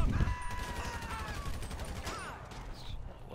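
Gunfire rattles in GTA 5 during a cops-versus-gangsters shootout, a quick burst of shots at moderate distance beneath game noise and a voice.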